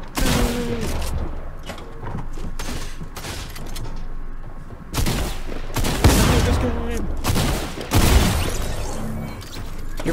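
A purple shotgun blasts repeatedly in a Fortnite match, the booming shots landing at irregular intervals among other gunfire, crashes and game noise.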